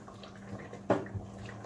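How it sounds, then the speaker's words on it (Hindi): Water is poured into a cooking pot of chicken balti gosht in a home kitchen, a single short splashing gush about halfway through, with quiet room hum before and after. "ये पानी भी मैं पूरा डाल दूँगी"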